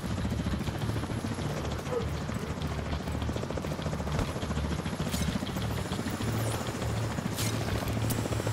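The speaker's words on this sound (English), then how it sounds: "Oh, you better not be sending no goddamn helicopter at me." A helicopter in The Division 2 video game whirs steadily with a dense, continuous rotor drone. Scattered bursts of distant gunfire cut through it, and no one speaks over the noise.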